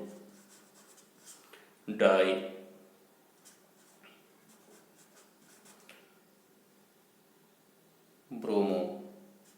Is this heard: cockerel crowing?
no